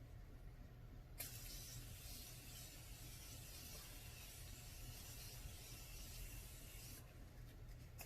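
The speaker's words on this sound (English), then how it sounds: "I am using Morphe Continuous Setting Spray like this." Morphe Continuous Setting Spray is misted onto a face in one long, steady hiss that runs close and quiet for several seconds before cutting off, with no talking.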